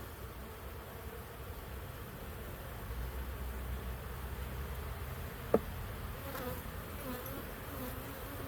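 Honeybees buzz inside the hive of a split colony, a soft, steady hum with one brief tap partway through.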